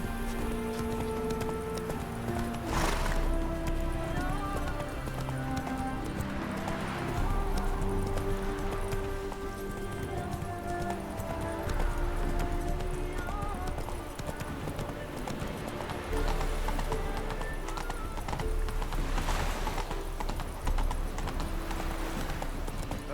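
Steady clip-clopping hooves of Roach, the horse in The Witcher 3, trotting continuously through the whole stretch at moderate loudness, with voices talking over the rhythm.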